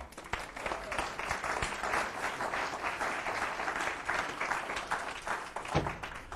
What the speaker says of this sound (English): I want you to give her a big round of applause